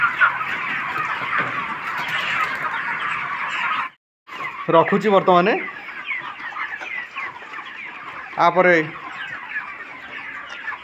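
Chickens on a rooftop poultry farm cluck in short bursts, near and fairly loud, over a steady background of flock noise, with someone speaking throughout and a brief gap of silence partway through.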